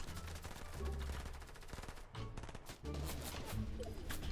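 Rapid automatic gunfire from a Fortnite match, bursts of loud crackling shots in quick succession, briefly pausing midway before resuming, with no talk.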